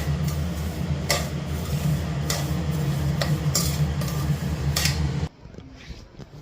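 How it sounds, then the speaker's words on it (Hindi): Broken wheat (dalia) roasting in a pan, a soft continuous dry rustle with sharp scraping clicks from stirring every second or so, until it drops to near quiet at the end. "यहाँ पे दलिया भी साथ ही में भून के रख देती हूँ"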